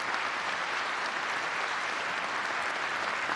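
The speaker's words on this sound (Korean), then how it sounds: "큰 박수 부탁드리겠습니다" A large audience claps at a March 1st Independence Movement Day anniversary event, producing thick, continuous applause that stays even and full from start to end.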